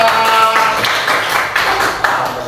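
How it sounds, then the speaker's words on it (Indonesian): Students in a class clap for a classmate named Gracia after her presentation, a brisk, fairly loud burst of many hands clapping at an even level. "tepuk tangan dulu buat Gracia"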